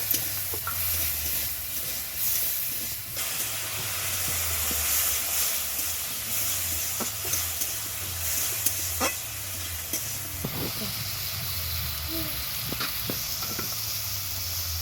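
Peas and tomato stir-fry with turmeric and chili powder in a pan, a steady sizzle and hiss with occasional spatula scrapes and taps, close and continuous.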